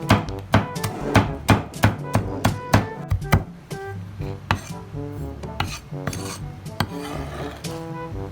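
Rapid knife chopping of sisig ingredients on a board, a steady run of close, loud strikes for the first few seconds, then looser irregular chops and clatter over a faint background tone.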